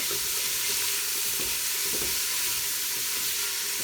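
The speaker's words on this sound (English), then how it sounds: "I'm going to stir this around and I'm going to let these cook" Carrots, celery and onion sautéing in a soup pot: a constant, close, even sizzle with faint soft scrapes of stirring, no voices.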